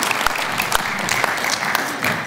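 A church congregation at a Gateway Church service claps steadily, a dense, even patter of many hands that holds at a constant level for a couple of seconds with no voice over it.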